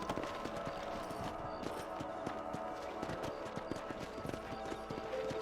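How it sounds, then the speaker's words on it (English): Horse hooves clip-clop in the Red Dead Redemption video game as a rider patrols a ranch, a steady rhythmic trot of close hoofbeats over a low ambient bed, with a faint whinny. "Mount your horse"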